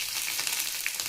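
Green chillies fry in hot oil, a constant close hiss and crackle of sizzling with small pops, no voices over it.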